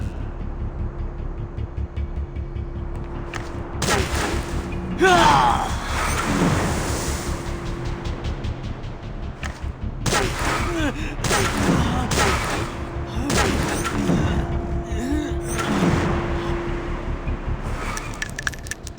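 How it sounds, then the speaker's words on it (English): Gunshots ring out in the Dragon Raja video game, several sharp bursts scattered over a steady hum, some loud and close, mixed with faint game effects and no clear talk. "Shoot him, please, Commissioner"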